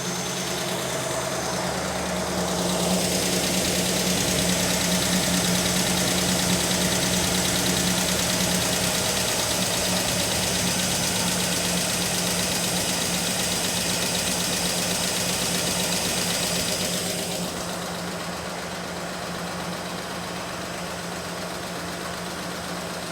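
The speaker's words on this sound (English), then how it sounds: "The fuel pump's working. Idle it down just a little more." A car engine idling steadily after a fuel pump repair, a close, continuous rumble with a slight rise in revs early on that settles lower toward the end.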